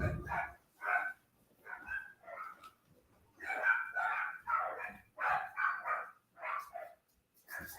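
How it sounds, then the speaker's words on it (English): Several household dogs bark excitedly at a neighbours' small dog, sending out a rapid string of sharp, repeated barks with short pauses between bursts, moderately close and alone. "That's how I know when they let their little dog out, because mine go crazy."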